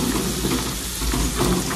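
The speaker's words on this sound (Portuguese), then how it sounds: "Aí eu deixo fritar bem o alho." Garlic frying in a little oil for Brazilian beans with calabresa sausage, a steady close crackling sizzle that fills the whole moment on its own with no talking.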